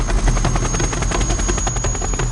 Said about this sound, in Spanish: El único modo de entrar era un helicóptero Black Hawk.